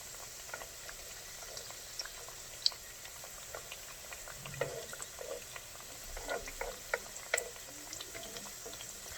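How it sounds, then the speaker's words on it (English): Empanadas deep-frying in a pan of hot oil, giving a low, steady bubbling and faint sizzle with scattered small pops, fairly quiet and unbroken by talk. "Space them out. You don't want to overfry them."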